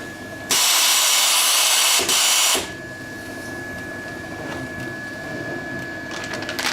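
A continuous band sealing machine with nitrogen inflation runs on a transparent plastic bag as a loud, steady mechanical whir for about two seconds with a brief gap. It drops back to a quieter hum and a tonal whine.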